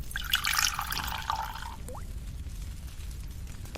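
Water being poured in a cartoon cooking scene where an egg is being cooked, a short splashing pour at the start that fades out, followed by a few faint drips and quiet background.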